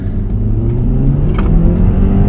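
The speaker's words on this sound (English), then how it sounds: "Alright, gonna put it in sport manual to start off with. Give it a little acceleration." Audi A4 Quattro engine accelerating in sport manual mode, a steady loud rumbling drone with rising engine tones building over two seconds, heard from inside the car.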